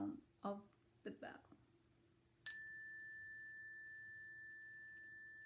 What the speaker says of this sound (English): Turning your attention to listening to sound of the bell.